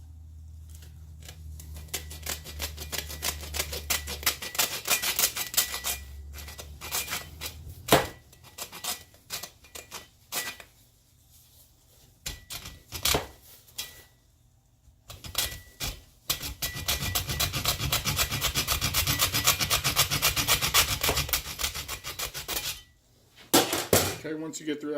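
A saw or shears cut through a turkey's leg bone just above the spur, giving repeated rough scraping and crunching strokes in bursts, with pauses between them and a voice speaking at times.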